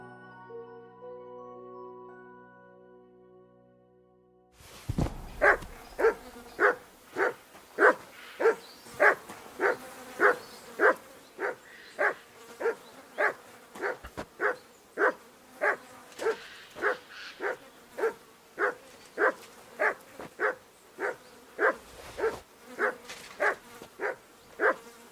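The dog Mutt in Kingdom Come: Deliverance II barks repeatedly in a steady, regular rhythm, about two dozen close, loud barks following a brief stretch of quiet music.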